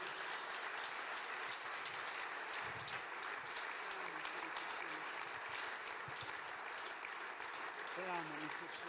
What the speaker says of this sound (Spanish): Dele un aplauso ahí al Señor